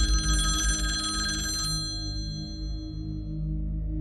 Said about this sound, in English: I heard the faint sound of a phone ringing